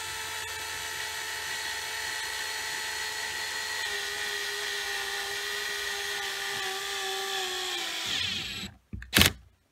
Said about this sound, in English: When it does that, that's that torque chuck stripping out, not letting it get any tighter.